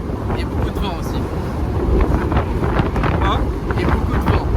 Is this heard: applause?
no